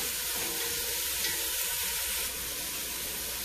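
Vegetables sizzle steadily in a pan over medium heat for black bean and tomato pasta, a continuous close hiss with faint stirring scrapes and no talk.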